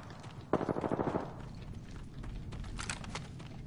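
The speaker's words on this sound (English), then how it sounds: "Taking fire." In Apex, a quick burst of rapid gunfire sounds at close range and fades within about a second, followed by quieter rattling and movement noise.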